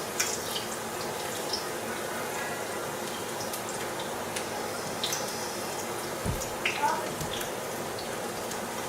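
Deer meat fries in hot grease in a pan, giving a continuous crackling sizzle with scattered pops and spits, moderately loud and close.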